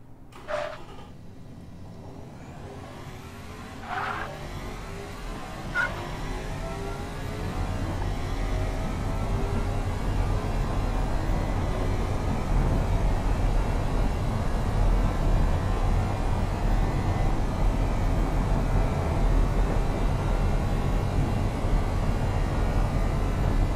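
Engine of a 2020 Athena CL10 car in the Automation game, building from a few sharp upshifts to a loud, sustained high-speed drone near 200 mph, with no voices.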